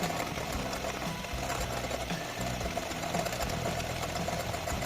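Electric hand beater whirring steadily through cake batter with a few drops of vanilla essence, a dense continuous motor drone with rattling texture, close and fairly loud throughout with no talk.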